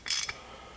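A light pod mount for Auxbeam 3-inch pods on a KC A-pillar bracket is cinched up with one brief, crisp ratcheting zip, close and clear, then quiet.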